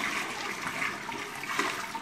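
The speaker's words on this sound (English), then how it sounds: "Now we're gonna dump our Carboy." Water and PBW cleaning solution glug and gush steadily out of an upended home-brewing carboy into a drain, a continuous close splashing pour with no speech.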